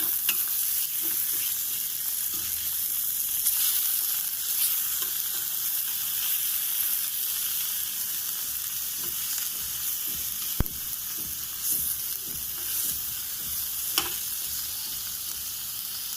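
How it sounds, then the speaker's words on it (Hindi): Paneer pieces fry in ghee in a pan, a steady bright sizzle filling the whole stretch with occasional stirring scrapes and a couple of sharp clicks, close and continuous with no talking. "पनीर के टुकड़े हम भुनने देंगे, धीरे धीरे भुनते रहे।"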